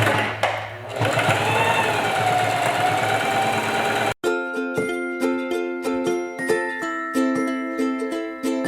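A sewing machine stitches the side seam of a shirred sundress, running in a fast even mechanical chatter up close after some louder shuffling and handling at the start.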